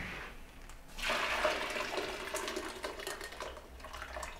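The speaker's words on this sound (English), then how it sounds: "Put them through a sieve, get rid of the water." Water rushes and splashes as it drains from boiled potatoes through a sieve, starting with a sudden gush and then settling into a steady, fairly quiet trickle.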